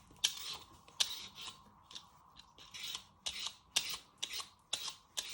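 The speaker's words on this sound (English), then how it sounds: "peel all your skin off your carrot" A carrot is peeled with a hand peeler: about ten sharp scraping strokes in an uneven rhythm, close and clear, with no one talking.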